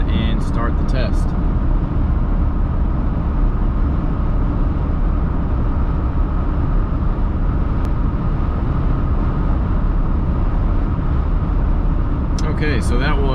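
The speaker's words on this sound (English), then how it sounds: "We're doing 70 miles an hour in 6th gear, and let's go ahead and start the test." Inside a two-door Jeep Wrangler JL cruising on the highway at 70 mph in sixth gear, a loud, steady broadband road and wind roar fills the cabin, with a few faint clicks at the start and end.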